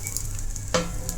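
A poha dosa fries with oil on a hot pan, giving a soft continuous sizzle with a brief scrape or stir partway through, faint and close, no talking.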